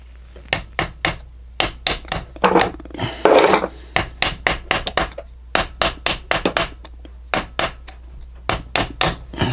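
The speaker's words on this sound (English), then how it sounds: "Get my little hammer and a piece of wooden dowel right here." A small hammer taps a wooden dowel on a Grizzly G0781 milling machine, giving a long run of sharp, close knocks, mostly in steady pairs and quick bursts, with a brief scraping rasp partway through.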